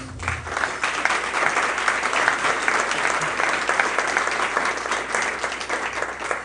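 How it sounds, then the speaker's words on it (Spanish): A church congregation breaks into strong, sustained applause during a sermon on prayer, a dense even wash of many hands clapping throughout with no speech over it. "Un fuerte aplauso al Señor"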